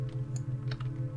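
Keys tapped on a computer keyboard while writing a game in C, a quick run of light clicks close by over a steady low hum, with no talking.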